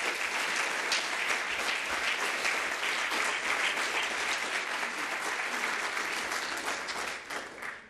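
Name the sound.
audience applause at a keynote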